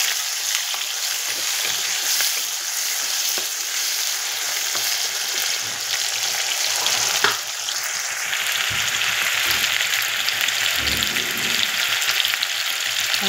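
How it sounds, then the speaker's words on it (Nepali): Garlic, onion and tomato sizzle and fry steadily in hot oil in a pan, stirred now and then with a few soft scrapes, a continuous close hiss with no voices. "त्यहाँदेखि लसुन प्याज टमाटर हालेँ, अन्त एकछिन चलाउँदैछु"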